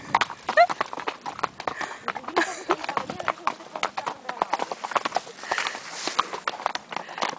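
A donkey's hooves clip-clop in a quick, steady rhythm on a hard surface, fairly close, with faint voices in the background.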